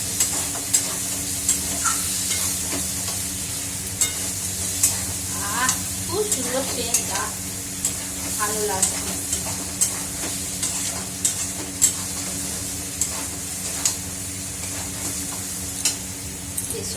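Food frying in a kadai, stirred with one hand: a continuous bright sizzle under rhythmic scraping and clicking of the spatula against the pan, close by, with someone briefly speaking over it.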